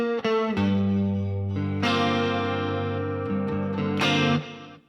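An electric guitar with distortion strikes a chord, its notes ringing out one after another in a quick arpeggio, then sustains and is struck again, loud and close.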